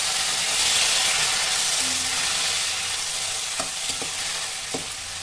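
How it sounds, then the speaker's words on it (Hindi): Finely chopped tomatoes frying with already-fried onions in a pan for a soya chilli dish: a steady, loud sizzle with a few sharp stirring clicks toward the end, no voices. "अब इसमें बारीक कटे हुए टमाटर ऐड कर देंगे"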